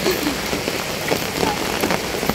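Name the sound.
heavy rain falling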